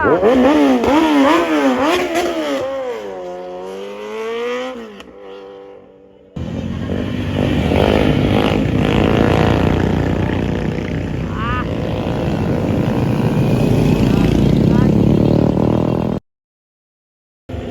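A big bike motorcycle passes on the Marilaque mountain road with a loud, close rushing drone and engine rise, under excited talk, before cutting out abruptly near the end.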